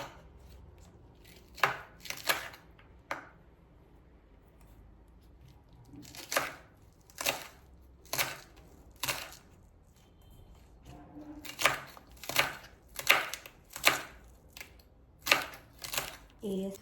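Onion chopped with a knife on a board: close, crisp thuds in uneven bursts, a few isolated cuts early then quick runs of strokes later, with quiet gaps between.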